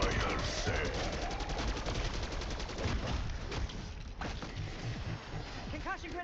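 Rapid automatic gunfire in a video game fills the whole stretch, dense and loud, with a few sharper single shots and metallic pings near the end.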